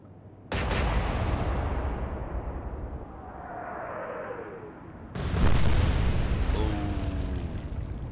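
Explosions and gunfire in a naval battleship video game, Atlantic Fleet: two loud booming blasts, the first near the start and the second about five seconds later, each trailing into a long rumbling roar with whistling tones.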